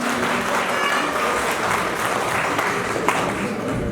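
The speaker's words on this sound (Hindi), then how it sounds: "बच्चों तालियां मिलनी चाहिए" An audience at a university International Women's Day celebration claps steadily, a continuous wash of applause filling the hall with a faint voice underneath.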